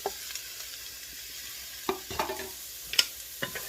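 Onions dropped into a little oil over medium heat crackle softly for a few seconds, with a gentle sizzle broken by sharp stirring scrapes and clinks.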